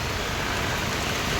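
Heavy monsoon rain pours down in Khed, Ratnagiri, near the police station, a dense, loud and continuous hiss of water with no talking.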